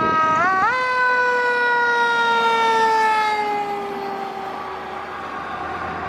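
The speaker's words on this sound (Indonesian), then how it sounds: "Ini ada mobil pemadam kebakaran warna hijau." A green toy fire truck sounds its electronic siren, a loud, steady wailing tone that holds close to the microphone, then drops slightly in pitch and fades a little toward the end, with no talking over it.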